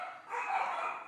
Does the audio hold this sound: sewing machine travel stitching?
no